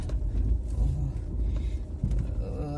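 Car driving along a road on the way to a vet pharmacy, a steady low engine and road rumble from inside the cabin, continuous and moderately loud throughout.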